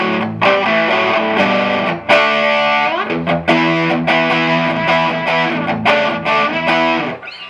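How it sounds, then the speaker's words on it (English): Electric guitar played through a Route 66 tube overdrive pedal with heavy overdrive, chords and single notes ringing out in a driven, gritty rock tone, loud and up close with no talking. "We're going to turn the Route 66 overdrive on."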